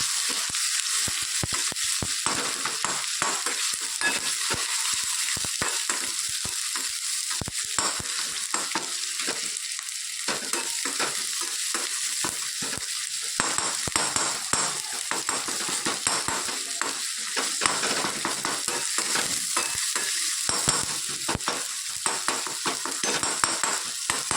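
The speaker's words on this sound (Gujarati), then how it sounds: "તેજ અચાર મસાલો, લાલ મરચું, તેલ, હળદર સરસ બધું આપણે મિક્સ કરી દઈએ." Oily pickle masala with red chili powder, turmeric and curry leaves stirred and sizzling in a hot pan, a steady frying crackle with scraping spoon strokes throughout, close and fairly loud, no talking.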